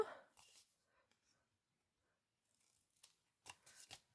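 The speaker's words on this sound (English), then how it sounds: "let's give our ribbon a little bit of a trim" Scissors trimming a ribbon at an angle on a handmade pansy greeting card, a few quiet, close snips and rustles spaced across a near-silent room.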